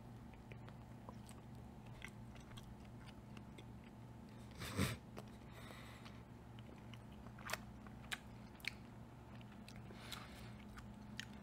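Someone bites into a pepperoni flavored snack bite with one soft crunch, then chews quietly close up, with faint clicks over a low steady hum and no talk.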